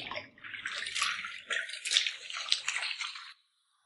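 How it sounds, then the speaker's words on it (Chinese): Dug-up clams are washed in water, a continuous splashing and sloshing with small rattles lasting a few seconds before stopping abruptly. "先清洗第一遍"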